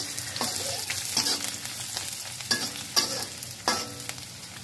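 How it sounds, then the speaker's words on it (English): Garlic and onions frying in a pan, steady soft sizzle with intermittent stirring scrapes and clinks, close and fairly quiet. "So now we put the garlic. The onions."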